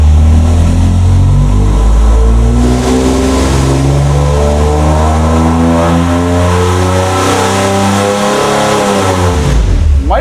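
A turbocharged Ford 300 inline-six roars under hard, sustained throttle on a dyno, its deep exhaust note climbing steadily in pitch for about ten seconds before easing off, loud and close with no talking.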